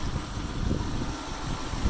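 A Lexus SC430's 3UZ-FE V8 engine idles steadily with a low, even rumble and faint vibration, no one speaking.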